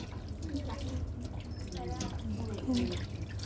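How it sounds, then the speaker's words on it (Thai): Hands being washed under a running tap at a sink during a patient oxygen-care demonstration, a soft continuous splash of water heard under quiet talking. "ล้างมือก่อน"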